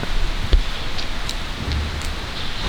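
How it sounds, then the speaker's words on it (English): Steady rain pours outside a humid, foggy spot in Mexico, a dense close wash of falling drops with a few sharper drips and taps, no voices. "now I'm trapped here because of the rain"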